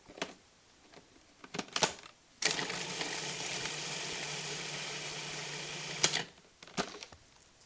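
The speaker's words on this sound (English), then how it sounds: "The food processor is going to just push it around and shred it because it's too dry by itself." A food processor shredding dry cooked roast beef runs for about four seconds as a steady, loud motor whir with a coarse grinding edge, bracketed by clicks and knocks of the bowl and lid before and after.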